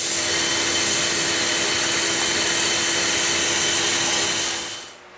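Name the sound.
sanding a wooden spurtle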